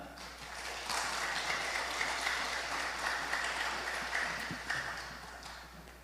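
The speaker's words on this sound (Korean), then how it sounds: "오늘 감사절을 맞이해서 열렬한 찬양으로 다 함께 은혜를 나눌 때 나오실 때 박수로 환영하겠습니다" Steady, dense applause from a church congregation welcoming a performer, a continuous even wash of clapping that holds at moderate level and tapers slightly at the end.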